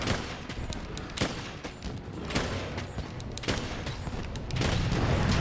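Heavy bowgun firing flame ammo in Monster Hunter World, a rapid series of sharp gunshot bursts over a dense crackling in-game din, with a rumbling surge toward the end.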